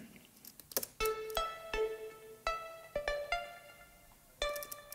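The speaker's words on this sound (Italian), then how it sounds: "E poi abbiamo dei pluck. Io ho utilizzato Omnisphere" Heavily processed synth plucks from Omnisphere, treated with EQ, compression, saturation, reverb and delay: a sparse sequence of bright, percussive notes with ringing harmonic decays, played fairly quietly in an uneven melodic rhythm.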